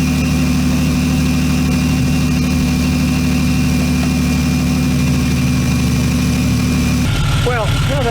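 A car engine idles steadily after being jump started with a TOPDON JS2000 2000 amp jump starter, a loud continuous low rumble near the microphone that shifts in tone near the end, with a voice briefly audible.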